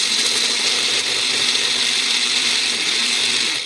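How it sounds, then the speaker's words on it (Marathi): A mixer grinder whirs loudly and steadily, grinding a spice paste without water for a brinjal curry in one continuous high-pitched drone with a faint rattle inside. "छान मिक्सरमध्ये बारीक असं वाटून घ्यायचं आहे"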